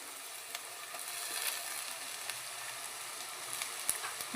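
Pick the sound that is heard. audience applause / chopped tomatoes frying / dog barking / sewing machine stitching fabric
chopped tomatoes frying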